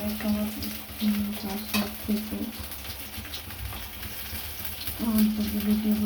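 Oil sizzles and crackles steadily in a pan while a fish-head and cabbage curry cooks, close up, with occasional stirring scrapes and faint background noise.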